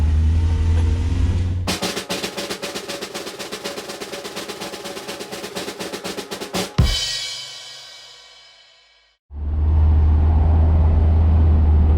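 Apex Reeper 4 street-legal four-wheel-drive off-road utility vehicle making a tight turn, with a loud close engine drone, then a rapid rhythmic mechanical rattle, a fading whine down to near silence, and the engine hum returning.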